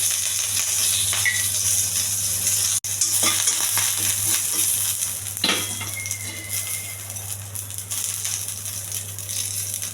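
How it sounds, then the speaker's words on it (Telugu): Curry leaves sizzle in a little hot oil for an egg and chickpea capsicum curry, a steady bright crackling hiss throughout with a few faint clinks of a utensil against the pan. "కొద్దిగా నూనె అండి, కరివేపాకు,"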